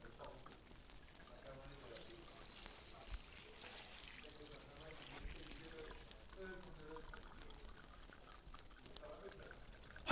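Water pours steadily onto a potted flower, a continuous soft trickle heard under faint background noise for about ten seconds.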